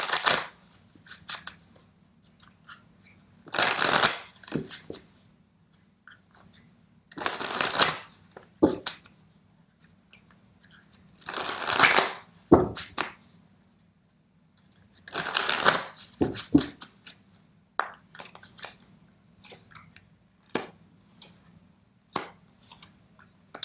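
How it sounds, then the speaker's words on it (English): A tarot deck, an Impressionist-themed set, being shuffled by hand in repeated brisk riffling bursts of a second or two, with quiet pauses and small taps between them, close and clear with no talk. "Just let me mix these other cards, the Impressionist deck, and then I'll show you those."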